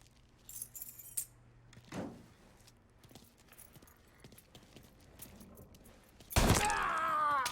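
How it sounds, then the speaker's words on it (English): Keys jangle in a brief burst early on, then a louder metallic rattle and clatter near the end, close by, with soft background noise between and no talk. "Hey, man, grab those keys."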